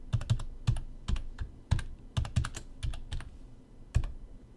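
Password being typed on a computer keyboard: quick bursts of close, crisp key clicks in an uneven rhythm, with no voices.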